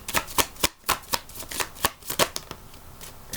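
Tarot cards are shuffled by hand in quick riffling bursts, roughly a dozen crisp flutters in an uneven rhythm, close and clear with no talking.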